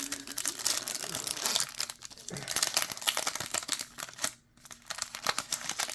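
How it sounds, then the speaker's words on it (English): Topps 2023 Series 2 baseball card packs from a blaster box are torn open, with continuous close crinkling and crackling of foil wrappers, bursts of ripping, and a brief lull near the end. "let's open these cards up"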